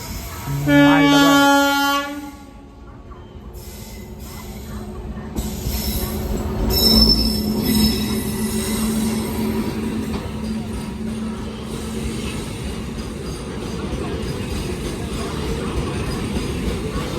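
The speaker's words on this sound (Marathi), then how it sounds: "ट्रेन आली ट्रेन आले बरोबर समोर दाखवतो तुम्हाला" A freight train horn blares briefly at a railway level crossing, then wheels rumble and squeal steadily as the long train rolls past close by.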